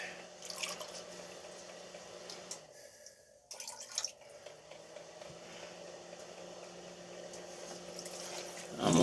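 Water trickles and drips into a 7-gallon plant pot, faint and close, with a brief pause midway before the steady pouring resumes and swells slightly at the end.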